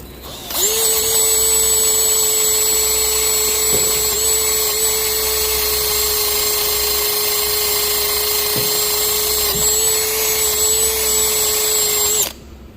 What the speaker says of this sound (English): One method is I use a drill.